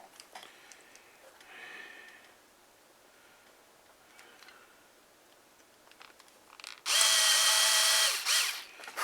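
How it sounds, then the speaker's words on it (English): Power drill boring holes into a piece of wood while building a rifle, a short loud high-pitched whir near the end after faint ticking and handling sounds. "now we got to drill out these holes"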